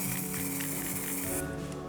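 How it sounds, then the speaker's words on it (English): Aerosol spray paint cans hissing steadily while laying down a gradient on a taped-off rectangle in a mixed media painting, a continuous close spray with a brighter burst near the end. "we're gonna create a gradient using lots of these spray paints."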